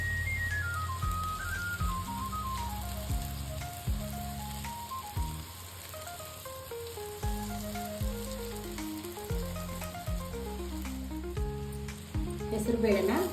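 Ground moong dal frying with onions in a pan gives a continuous soft sizzle with occasional stirring, sitting under a melodic backing tune throughout.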